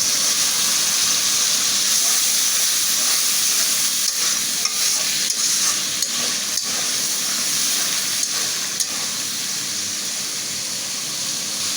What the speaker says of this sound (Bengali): আমার আদা রসুনটা কিন্তু সুন্দর করে ভাজা ভাজা হয়ে গেছে এখন আমি একটু সামান্য একটু পানি দেবো